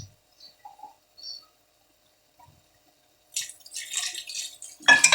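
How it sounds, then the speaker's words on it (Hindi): A few soft drips and clicks in near silence, then a sudden burst of hissing, sizzling liquid as water hits frying masala in a hot pan. "इसमें ज़रा सा हम पानी डाल देते हैं"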